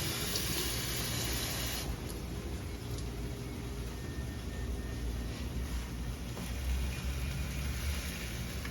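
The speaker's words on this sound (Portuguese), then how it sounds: "Colocar um pouquinho de água." Water pours steadily into a cooking pot holding potatoes on the stove, a continuous close rushing splash that runs the whole length with no talk over it.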